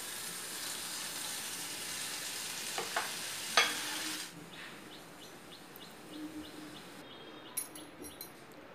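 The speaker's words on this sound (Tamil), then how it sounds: "இதே மாதிரி மீன் இருக்க மாவையும் நம்ம பூந்தியை பொரிச்சு எடுத்துடலாம்" Boondi batter made from gram flour frying in hot oil for motichoor ladoo, a steady close sizzle that surges briefly midway and then settles into a quieter bubbling, with a few faint clicks near the end and no voices.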